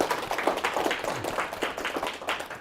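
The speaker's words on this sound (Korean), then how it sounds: "이 시점에서 그분들에게 박수 한번 쳐주십니다." Audience clapping at a lecture, a steady crowd patter of many hands rising and falling in waves, fairly loud and close with no talking over it.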